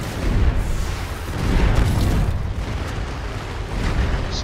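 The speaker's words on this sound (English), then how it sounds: "So now I have maximum missile barrages." Missile barrage explosions in the futuristic strategy game Anno 2205 make a dense, continuous rumble of booms and blasts that swells and ebbs without a break.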